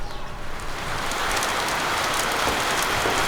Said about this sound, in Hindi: बारिश भी शुरू।